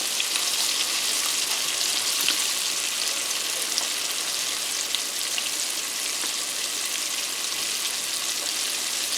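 Chicken wings, a second batch of spicy ones, sizzle steadily in hot frying oil, a dense, even crackle filling the whole stretch with no voices over it.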